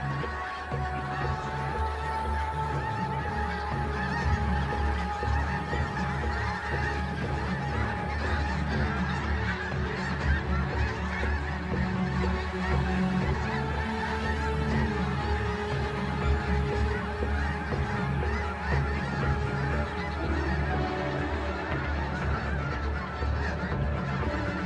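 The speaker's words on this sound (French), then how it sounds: "nombre d'oies des neiges augmente au fil des jours." A large flock of snow geese on the Arctic tundra honks continuously, many overlapping calls forming a dense, steady chorus that holds its level throughout.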